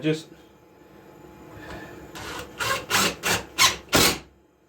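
A longer screw driven into wood by a power driver, several short loud whirring bursts in quick succession near the end after quieter handling sounds, close by.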